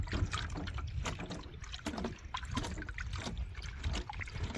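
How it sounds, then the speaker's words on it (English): Water is poured gently down a highbanker sluice beside a river, giving a soft, continuous splashing trickle with irregular surges, close but quiet. "I'm just gonna really gently pour this water down a bit."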